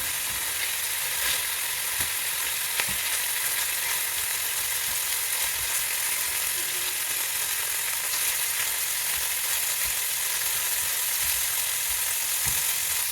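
Pieces of fish frying in a pan of oil for fish molee, a continuous close sizzle with occasional soft clicks and scrapes as the pieces are turned over, no talking.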